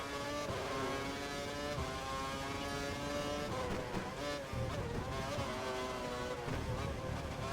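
Several race cars in the F1 World Championship video game at Bahrain, engines droning and shifting in pitch continuously as they pass, loud and steady with no talk.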